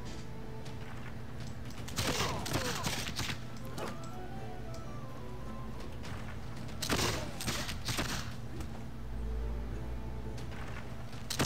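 Modern-era infantry fire guns at natives armed with clubs in the Civilization VI strategy game, with two clusters of rapid gunfire bursts over a low, steady game soundtrack.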